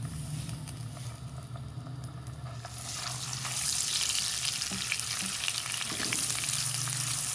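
Cumin seeds and ginger-garlic paste fry in hot oil for an egg korma, giving a steady sizzle that swells louder and brighter partway through as the paste hits the pan, with occasional stirring clinks.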